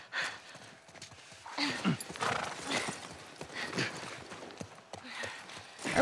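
Horse hooves walking in The Last of Us Part I, with irregular soft clip-clop footfalls under game ambience and scattered rustling, moderately faint throughout.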